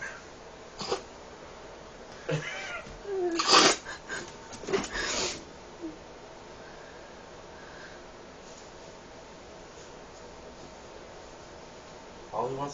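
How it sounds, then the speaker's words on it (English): A pet cat makes scattered close sniffs, wheezy snorts and short vocal sounds, with quiet stretches in between and a person talking nearby. "That's your cat."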